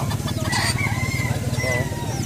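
Bantam chickens and roosters crow close by, one long cock-a-doodle-doo rising loud over a busy background of clucking birds in a crowded pen.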